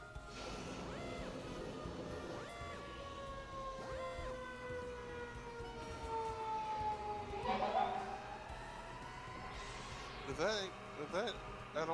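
A siren sweeps past in a video game, its wailing tone gliding downward as it passes, with clicks and other game sounds and people talking throughout.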